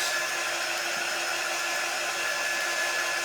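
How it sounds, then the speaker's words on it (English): A hair dryer runs close and loud in one steady, unbroken whoosh while drying a layered Valentine heart craft. "So I'm going to dry this."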